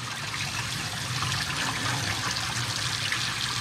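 Tap water runs steadily while rice is rinsed in an Instant Pot inner pot over a kitchen sink, a continuous close splashing and trickling wash without talk.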